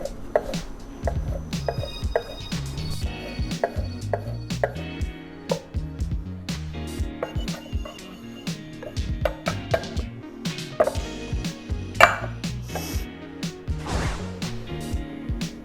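Knife chopping a leek on a cutting board, a fast irregular run of close sharp knocks and thuds over a busy kitchen background of clatter and sizzling, with no voices.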